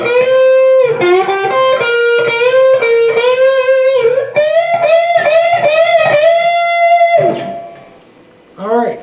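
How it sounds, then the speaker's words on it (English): Distorted electric guitar solo in C pentatonic from a song, played loud and alone with string bends, sustained bent notes and quick picked phrases, ending in a brief pause and a final bent note. "we're going to bend up the 3rd string at 10, catch the 2nd string at 11, and then we're going to hit 10 unbent and bend it up"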